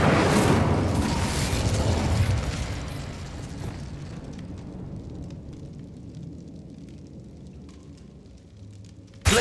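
A fire spell cast in Hogwarts Legacy: a loud, roaring burst of flame that crackles and gradually fades over several seconds, ending in a sudden sharp hit.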